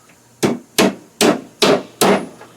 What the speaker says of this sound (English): I think you all understand how to drive a nail or two